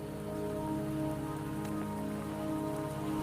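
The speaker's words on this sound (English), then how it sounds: "Don't worry, the rain won't last much longer." Steady rain falls on surfaces in the video game Wuthering Waves, an even, continuous hiss with a low droning hum beneath, no voices.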